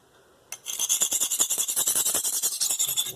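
A knife drawn across a sharpening stone, starting abruptly then settling into quick, regular back-and-forth grinding strokes, close and fairly loud, with no voices.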